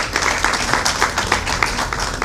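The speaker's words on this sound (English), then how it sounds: "give him another applause" A conference audience at an opening ceremony applauds, dense, steady clapping from many hands that fills the room for a couple of seconds with no talk over it.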